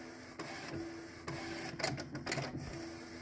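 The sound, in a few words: Epson EcoTank 8550 printer printing DTF transfer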